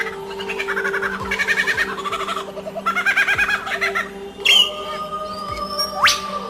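Lyrebird copying other birds' calls, a run of rapid trilling chatter in repeated bursts followed by sharp whistled sweeps and a rising note, close and clear over low background noise.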